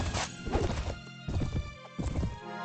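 Steady clip-clop of hooves from a galloping horse in the video game Mount & Blade: Warband (Floris mod), rhythmic and close, with game-like clanks and thuds mixed in.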